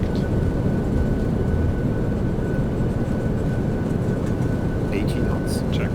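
A roaring reverse-thrust rumble from an airliner landing in MSFS 2020 holds steady and loud for the whole stretch. Cockpit callouts are spoken over it.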